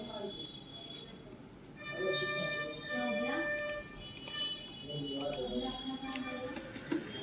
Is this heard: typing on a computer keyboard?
yes